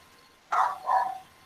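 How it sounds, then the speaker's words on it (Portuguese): A dog lets out two quick barks a short way off in a quiet room, a brief double woof that then fades into low background hum. "O cachorro acordou aqui."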